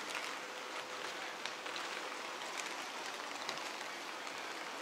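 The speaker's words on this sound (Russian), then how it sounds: "Дожди пошли." Steady rain falls over an outdoor site where a shed is being built, a dense, even hiss of drops hitting surfaces with no break for the whole stretch and no voices.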